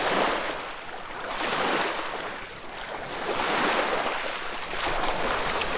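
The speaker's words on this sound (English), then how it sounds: "it's just water that we're using to wash our van" A van in the Greek mountains is rinsed with plain water and no detergent, washing off sand. The water makes a steady, close rushing hiss that swells and eases in waves, with no talking.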